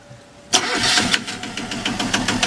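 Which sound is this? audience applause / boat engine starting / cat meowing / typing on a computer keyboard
boat engine starting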